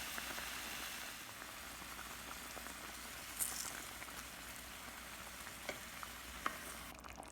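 Spicy tofu curry with garam masala and mint cooking down in a Le Creuset balti dish, a faint, steady simmering hiss with a few soft pops and utensil taps, no talk.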